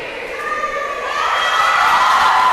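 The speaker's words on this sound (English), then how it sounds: "Lots of chatter, lots of cheer, lots of energy, lots of excitement." Indoor swim meet crowd cheering and chattering, a steady wash of voices and shouts that swells louder toward the end, with whistling tones rising above the noise.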